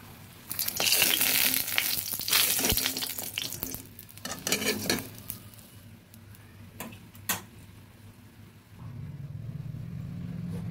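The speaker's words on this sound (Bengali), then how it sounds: "লাল লাল করে বড়িগুলো ভেজে নিয়েছি, এবার তুলে নিচ্ছি।" Lentil dumplings (bori) frying in oil and being lifted out of the pan, close up: crackling sizzle with clattering stirring and scraping strokes, settling into a steady soft hiss near the end.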